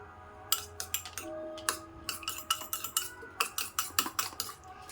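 A spoon beats omelette eggs with chopped onion and salt in a bowl, giving a quick run of sharp, close clinks and taps in uneven rhythm over a quiet background.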